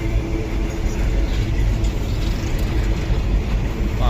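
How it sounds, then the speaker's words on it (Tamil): A long freight train passing by, a continuous loud rumble and clatter of wagons rolling steadily past at close range, with no breaks or voices. "ரயில் வந்துட்டே இருக்குது போயிட்டே இருக்குது பாருங்கள் பொட்டி வரிசையாக போயிட்டே இருக்குது பாருங்கள்"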